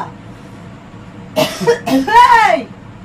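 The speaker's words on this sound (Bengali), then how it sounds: "কাশি উঠেছে তো" A person coughs a few times in quick succession, close and loud after a quiet start, with throat-clearing and a voice mixed in around the coughs.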